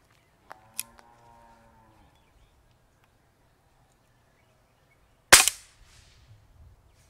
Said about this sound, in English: any noise that does come from the gun is emitted more from this area directly into your ear and jawbone